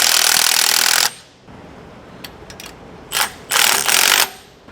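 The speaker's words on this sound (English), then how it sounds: "we can go ahead and tighten these down. We'll use a 14mm socket to do so." Ratchet with a 14mm socket tightening steering stabilizer bolts on a Class A motorhome: a loud continuous burst of clicking, then a quiet gap with a few scattered ticks, then two more short bursts of rapid ratcheting.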